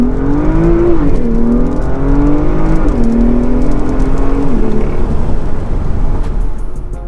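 A 2016-era BMW M2 with the N55 turbo straight-six, Bootmod3 stage 2 tune, VRSF sports cat, intercooler and chargepipe, revs repeatedly, its loud exhaust note climbing and dropping in close succession.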